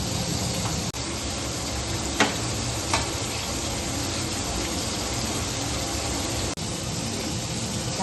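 Bangda mackerel fries in a pan with a loud, dense, constant sizzle and a few sharp pops and scrapes over the hiss.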